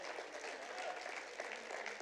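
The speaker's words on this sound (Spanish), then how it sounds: "Dale un fuerte aplauso al Señor en esta noche." Congregation applause during a Spanish-language church service, a soft, distant, steady patter of clapping lasting about two seconds with no speech on top.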